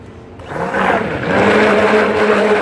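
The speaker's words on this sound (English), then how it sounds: "I'm going to blend it" A blender motor whirs to life and settles into a loud, steady grinding hum as it mixes cold-process soap batter continuously.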